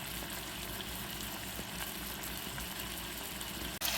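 Burgers sear in a pan, giving a steady, close, even sizzle and crackle that runs without a break, with a short sharp click near the end.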